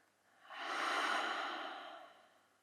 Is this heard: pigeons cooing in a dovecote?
no